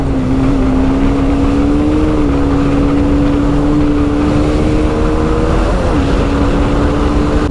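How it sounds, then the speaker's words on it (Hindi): A KTM Duke 390 motorcycle ridden fast on a hot day gives a continuous, loud engine drone that climbs in pitch as it accelerates. Heavy rushing wind noise runs underneath throughout. "मैं इस टाइम बाइक को भगा रहा हूँ।"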